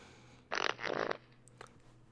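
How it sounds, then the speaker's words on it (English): A cartoonish fart sound from GTA San Andreas Definitive Edition, a loud sputtering burst lasting about half a second, followed by a couple of faint clicks. "Did I just fart?"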